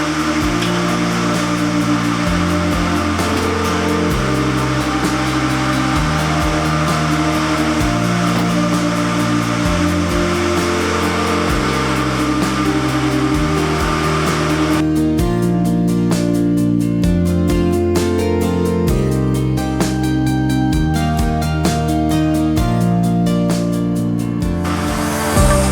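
Spinning machinery in a cotton spinning mill runs steadily and loudly, a dense mechanical whir with a repeating low cyclic pulse and constant high rattling, continuous throughout with no voices.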